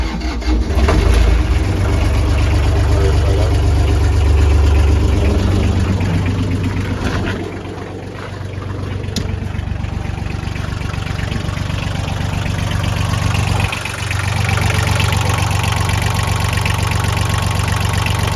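A diesel engine, fired after its glow plugs have warmed, runs at a loud, close, steady idle with a deep even rumble that dips briefly about midway before settling back into its drone.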